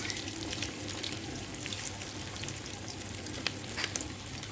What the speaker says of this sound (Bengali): আমার বড়া ভাজাগুলো হয়ে গেছে। এখন আমি তুলে নিচ্ছি।